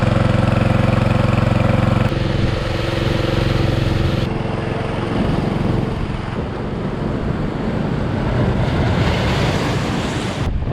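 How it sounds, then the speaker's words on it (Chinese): Strong wind and large sea waves crash continuously along a rocky shore during stormy weather, a loud, steady roar of surf with buffeting wind noise on the microphone throughout. "今天啊，风浪特别大"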